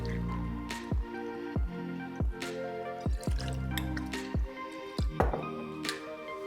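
Vodka is poured into a cocktail shaker already filled with ice, giving a series of distinct dripping, splashing hits against the ice, roughly one every second, up close and alone.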